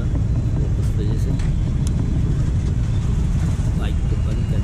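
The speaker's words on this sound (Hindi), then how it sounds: "यहाँ इतना ट्रैफिक जाम क्यों है" Dense low rumble of a jammed city road at night, continuous engine and traffic noise with faint horn-like tones, steady and close throughout.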